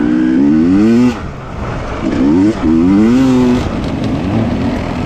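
A KTM TPI motorcycle with relocated injectors is ridden up through the gears, its loud, close engine rising in pitch, dropping briefly at each shift, then climbing again, with no voices.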